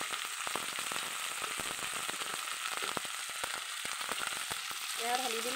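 Ground potato paste poured onto onions frying in a pan sizzles with a steady hiss and scattered crackles, close up, with a brief clink near the end and no speech.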